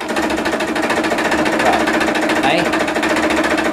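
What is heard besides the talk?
100-year-old sewing machine running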